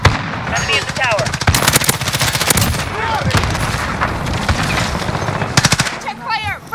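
Rapid automatic gunfire from Call of Duty on the Rust map, dense bursts of machine-gun fire with some pauses, loud and close, with brief shouted voices between volleys.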